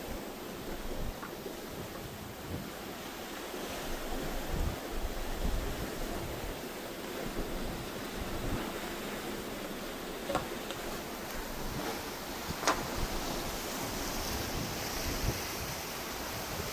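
Ocean waves wash steadily beside the cruise ship Carnival Jubilee at Roatan, a continuous hissing surf mixed with wind noise and a few faint clicks, with no voices.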